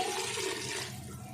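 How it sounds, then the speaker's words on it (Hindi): Water pours steadily into a cooking pot of chana dal with kaddo (bottle gourd), a continuous close splashing gush lasting the whole moment, easing slightly toward the end. "अब इसमें डाल देते हैं पानी।"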